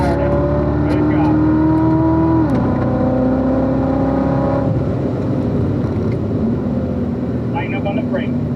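A race car accelerates hard around a mountain road circuit, engine revving loud and close with rising then shifting pitch, under steady talk from an instructor.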